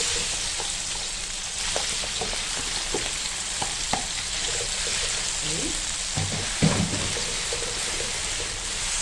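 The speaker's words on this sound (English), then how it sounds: "So we will want to continue frying this paste until all this moisture has been evaporated" Steady sizzling of chilli paste frying in a pan, a continuous crackle with occasional stirring scrapes and clinks, close and fairly loud.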